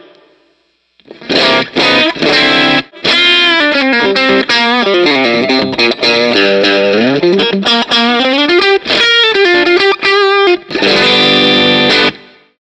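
An electric guitar plays through a compressor pedal with a high/low compression toggle, producing loud, sustained overdriven chords and melodic lines in steady phrases after a short quiet start. No one speaks.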